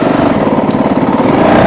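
A Honda CRF450L dual sport motorcycle with an enduro engine runs close and loud with a fast, rough, pulsing single-cylinder throb, steady throughout with no talking.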